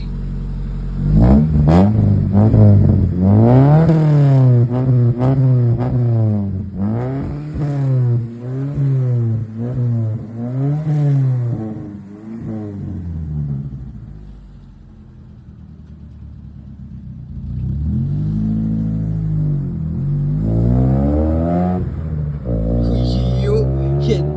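A Honda City car engine is revved hard several times in quick bursts, loud and close. It drops to a quieter idle midway, then revs again.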